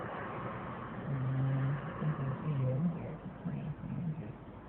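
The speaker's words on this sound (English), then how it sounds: "they got a couple locomotives engines" Norfolk Southern locomotive engines on a fast westbound manifest freight train in Columbus, Georgia, give a low rumbling drone that swells and pulses as they pass, under a wash of broad noise.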